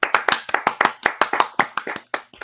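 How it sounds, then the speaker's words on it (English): A single person clapping for a podcast guest, about twenty sharp close claps in a quick, slightly uneven rhythm, with no talk over them. "Spencer, round of applause"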